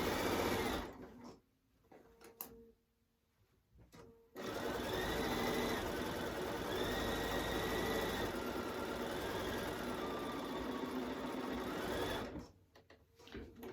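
Sewing machine stitching a tote bag: a few short bursts of stitching, then a long, steady whirring run of about eight seconds, close and clear with no voices.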